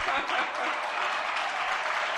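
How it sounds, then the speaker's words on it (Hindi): Enthusiastic audience applause at a religious question-and-answer gathering in Agra: a steady, full wash of clapping from many people, close and even, with a faint voice beneath. "देखो जम की तालियां बजाएगी"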